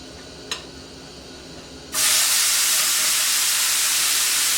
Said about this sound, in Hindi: थोड़े से तेल में इसको ग्रिल कर रही हूँ मैं